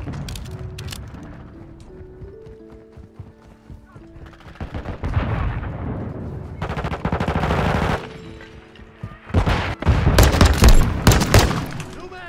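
Pistol fire in Call of Duty: Modern Warfare II, a weapon said to down enemies in one hit: sharp, loud shots in uneven bursts, clustering into rapid volleys toward the end, with game sounds between them.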